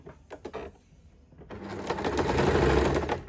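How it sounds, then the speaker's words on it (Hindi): A sewing machine stitches a salwar along chalk markings. A few clicks and short whirs lead into a steady, loud, close mechanical running hum. "जहाँ पर मार्किंग की थी उसी मार्किंग पर अब हमने यहाँ पर सिलाई लगानी है।"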